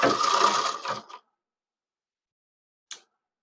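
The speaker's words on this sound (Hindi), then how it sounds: "पलटने के बाद इस पर भी हम सिलाई लगा लेंगे।" A sewing machine stitches a strip for a belt-style blouse in one close, steady burst of about a second, followed by silence and a brief final whir.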